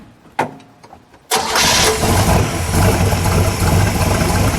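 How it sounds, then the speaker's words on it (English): A 1967 Chevrolet Corvette 327 with side pipes cranks briefly, then catches and settles into a loud, steady, rumbling idle that carries through to the end, close by. "Let's fire it, shall we?"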